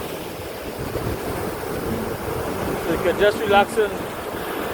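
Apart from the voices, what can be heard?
sea waves on a Caribbean beach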